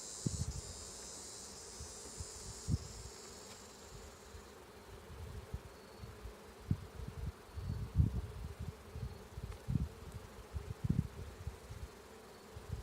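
Honeybees hum around an open hive during a frame inspection, a low continuous drone with irregular swelling buzzes as individual bees pass close, steady and moderately faint, with no voices.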